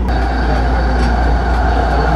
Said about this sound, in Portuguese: esse aqui é o trem do próprio aeroporto